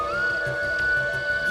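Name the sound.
flute playing at night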